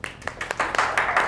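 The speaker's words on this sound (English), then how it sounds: "Round of applause, everyone." A workshop audience breaks into a short round of applause, scattered claps at first that quickly thicken into steady, fairly close clapping.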